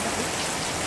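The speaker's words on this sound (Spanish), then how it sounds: "Está lloviendo banda." Heavy rain pours down in a dense, even hiss that fills the brief moment, loud and continuous with no talking over it.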